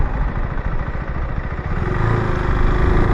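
A KTM 390 Adventure R motorcycle engine runs at low revs while the bike freewheels with the clutch pulled in, giving a loud, steady, throbbing hum close to the microphone with wind noise under it.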